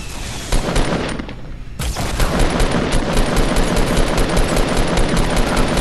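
Gunfire in the video game Fortnite comes as loud, rapid, continuous bursts of repeated shots that fill the whole stretch, after a brief dip early on, with no talk.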